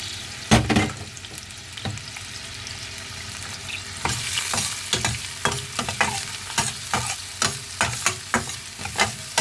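A whole head of chopped garlic browning in butter in a pan, with continuous close sizzling and regular clacking stirring strokes throughout, no voices.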